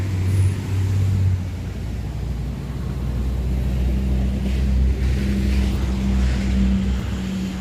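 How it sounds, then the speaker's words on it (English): Traffic on a major road runs right alongside, a continuous low rumble of passing vehicles with engine drones rising and fading and a passing swell midway. "So excuse the traffic, I am outside right next to a major road."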